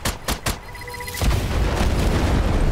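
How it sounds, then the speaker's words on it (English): Explosions in the Strange Brigade video game: a few sharp booming blasts, then a loud, sustained rumbling roar of the detonation filling the rest of the moment, with no talk. "More explosion."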